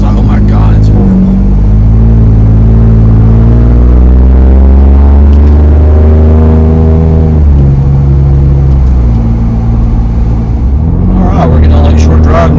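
A Ford Bronco fitted with a Flowmaster Outlaw axle-back exhaust pulls away, its deep burbling note climbing steadily in pitch as the engine revs rise, then easing off and picking up again, loud and close with speech mixed in.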